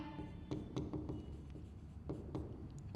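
Pen scratching across paper in short, quick strokes and taps while a photosynthesis equation is written out for a CBSE Class 10 biology answer, close and fairly soft with brief pauses between strokes.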